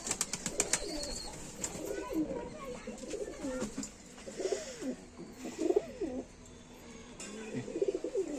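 A Saharanpuri Naptha pigeon coos repeatedly at close range, low throaty rolling calls recurring through the stretch, with some clicking and handling noise early on.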